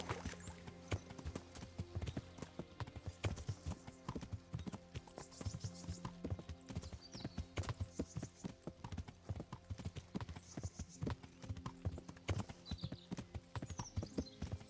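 Horse hooves clip-clop steadily in the medieval video game Kingdom Come: Deliverance, a continuous rhythmic trot with occasional brief whinnies, moderately loud and without talk.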